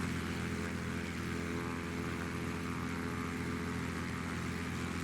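Propeller engine of a Cessna 185F amphibian in the Flight Simulator 9 game, a constant droning hum with a steady throbbing pulse and no variation throughout.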